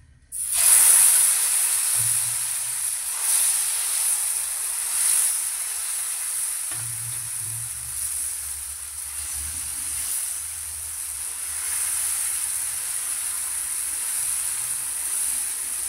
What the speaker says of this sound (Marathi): तवा चांगला तापल्यावर त्याच्यावर तेल घालायचं.